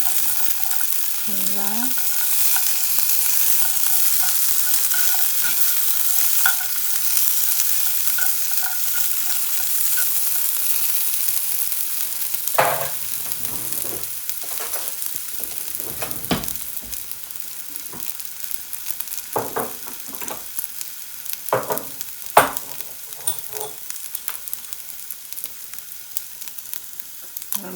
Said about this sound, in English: So I'm just roasting up some garlic, and I'm going to put the chestnuts